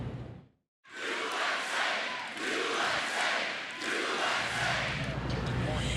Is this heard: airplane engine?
no